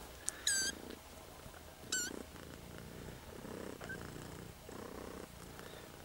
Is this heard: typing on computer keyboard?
no